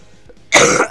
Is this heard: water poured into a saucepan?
no